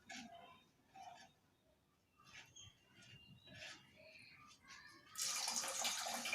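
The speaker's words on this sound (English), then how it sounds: "the air goes inside and pushes the water, and so the water comes out of the bottle through pipe" Near the end, water gushes steadily from the tap of a homemade, air-driven bottle water dispenser, starting suddenly and running loud and constant after a quieter stretch of faint, scattered sounds.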